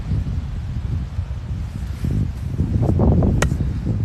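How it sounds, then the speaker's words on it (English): Wind blowing across an open disc golf course, a steady low rumble and buffeting that swells toward the end, with faint rustling and one brief high-pitched chirp near the close. "It's starting to get a little windy"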